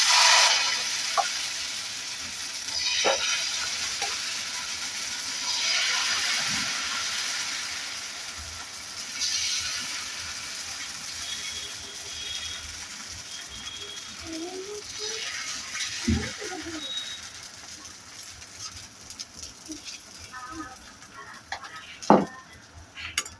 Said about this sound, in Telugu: ఇప్పుడు మనం దీన్ని దోశలాగే వేసుకుందాం.